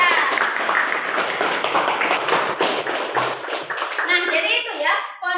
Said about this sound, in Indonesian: Ya, benar. Tepuk tangan untuk Cidan.